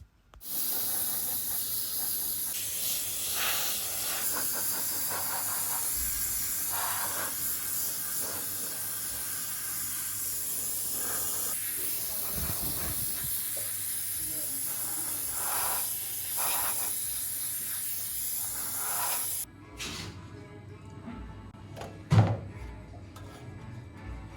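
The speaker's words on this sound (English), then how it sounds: "I use this Iwata airbrush for spraying the cocoa butter." An Iwata airbrush hisses continuously while spraying warmed cocoa butter into an antique chocolate mold, a steady close spray that cuts off abruptly near the end, followed by a few soft handling knocks.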